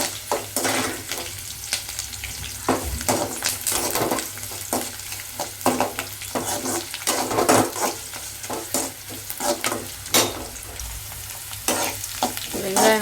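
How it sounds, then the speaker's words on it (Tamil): A kilogram of onions frying in a pan for stingray fish curry, a steady close sizzle broken by repeated scrapes and clinks of a spoon stirring through them. "வெங்காயம் நல்லா பொன்னிறமாக வரணும்"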